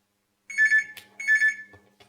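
Telephone ringing for a hearing-care phone-in program, two clear electronic trills separated by a brief pause, close and loud against silence.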